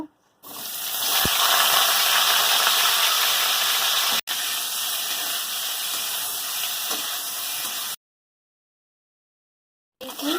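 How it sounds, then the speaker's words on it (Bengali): Cauliflower frying in hot oil in a wok gives a loud, steady hissing sizzle that starts abruptly, continues unbroken apart from a brief cut, then stops into silence before returning near the end. "তেল গরম হয়ে গেছে, এবার কপিগুলো ভেজে নেব।"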